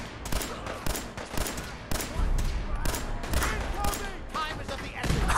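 Repeated gunshots from a gun in Fallout 4, sharp separate cracks fired at an uneven pace close up, with someone talking under and between the shots.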